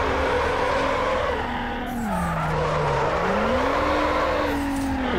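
A car drifts in Need for Speed Underground Remastered, its engine droning steadily while a long tire squeal rises and falls, close and loud with no talk over it.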